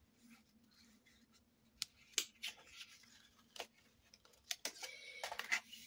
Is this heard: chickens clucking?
no